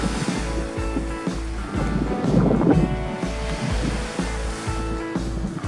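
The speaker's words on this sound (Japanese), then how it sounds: "こういう時に波音だけが妙にでかい時ありますね。" Ocean swell breaking at a surf point under a light offshore breeze, with a rumbling wash of surf that swells to a louder crash midway, steady low wind buffeting the microphone throughout.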